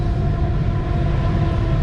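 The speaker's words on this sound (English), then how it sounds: "That's actually a freight train" A freight train rolls past nearby, a steady loud rumble with droning tonal hum from the wagons, continuous and without talk.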